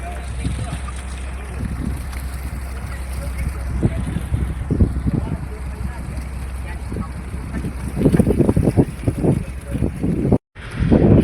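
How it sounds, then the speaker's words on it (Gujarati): A fishing boat's engine runs as a low, steady drone beneath wind noise and splashing water, with people talking over it throughout and a brief drop-out near the end. "આ બોટ ફિશિંગમાંથી આવી ગઈ છે."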